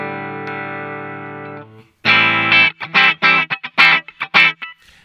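Bogner Goldfinger 45 guitar amplifier with its post bright switch engaged, giving bright, piercing distorted guitar tone: a sustained chord that fades out, then a loud run of short, choppy strummed chords played alone.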